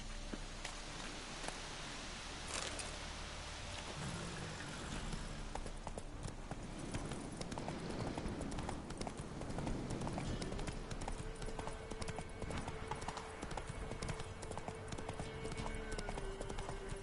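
Hoofbeats of Roach, Geralt's horse in The Witcher 3: Wild Hunt, clopping at a steady gait with rain-like ambience and game background sounds, growing busier and louder midway.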